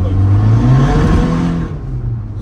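Volkswagen Caddy with a swapped 1.9 TDI PD150 diesel engine revving hard in second gear, a loud, steady engine roar close by that eases off near the end.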